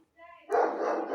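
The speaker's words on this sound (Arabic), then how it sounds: "سمحوا لي هذا الكلب تاع جانا" A dog barks in a home kitchen, a brief whine followed by one loud, close bark that trails off, with no talk over it.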